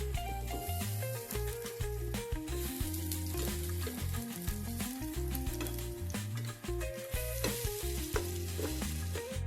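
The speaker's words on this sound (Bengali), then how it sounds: "লাল লাল করে এক পাশ ভালো করে ভাজা হয়ে গেছে, আর এক পাশ লাল লাল করে ভেজে নেব।" Egg and lentil fritters fry in oil, giving a close, continuous sizzle with bursts of crackling over steady background music.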